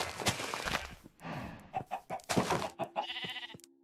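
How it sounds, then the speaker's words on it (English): Chickens clucking in a vanilla Minecraft 1.18.2 survival world, several short clucks and squawks in quick bursts, fairly close and clear, with no talk over them. "I can bring the chickens over."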